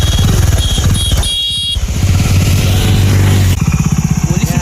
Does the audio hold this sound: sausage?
no